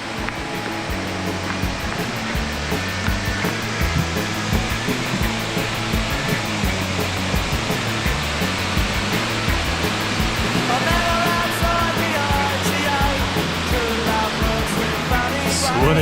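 Waterfall in the deep south of New Zealand, a loud continuous broadband rush of falling water heard close by, steady throughout with no talking.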